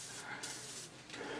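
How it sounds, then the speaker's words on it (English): Short bursts of aerosol lubricant sprayed into an old 1994 Johnson 35/40 hp outboard motor, two close hissing sprays in quick succession, fairly faint and without talk. "We'll spray some grease, use some lubricant all in there."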